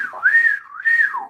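A person whistling to call someone over, two rising and falling sweeping whistles, loud and close with nothing else audible.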